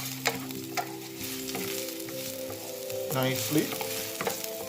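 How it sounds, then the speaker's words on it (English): Onion sautéing in a pan, a close crackling sizzle with stirring scrapes and clatter, with a short spoken word over it. "Saute the onion till it comes to this brownish look."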